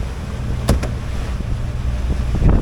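Blustery wind rushing over a Leopard 40 catamaran sailing around Governor's Island, a steady loud buffeting roar with a couple of hollow knocks from the boat.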